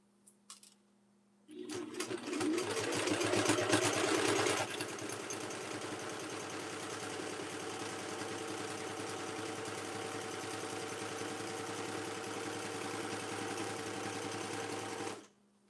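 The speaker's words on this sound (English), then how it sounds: "I may actually put this under the sewing machine for a second." A sewing machine stitches through a fabric sewing journal, starting with a louder burst of rapid, buzzing needle strokes, then running steadily and evenly for over ten seconds before stopping abruptly.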